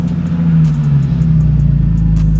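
A BMW Z4 engine starts in sport mode, settling into a loud, steady low rumble up close, with light mechanical ticking over the idle.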